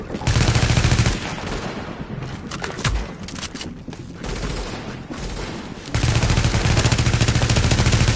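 Heavy automatic gunfire erupts in a video game firefight against hostile forces, dense rapid bursts loud at the start and end with scattered shots and impacts between.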